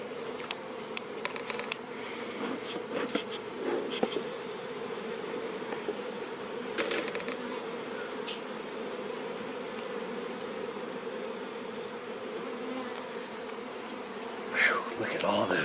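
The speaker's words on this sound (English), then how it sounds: "I hate it when bees are crawling on me." Honeybees buzz in a steady, dense drone around an opened hive, with a faint voice or two and brief handling knocks and rustles over the continuous hum.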